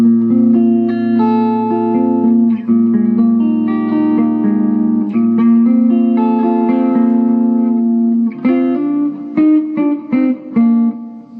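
Electric guitar through a Marshall DSL20HR tube amp head on the bridge pickup, with a warm, slightly overdriven breakup, chords ringing and sustaining with a bit of effect, then a few choppier strummed notes near the end.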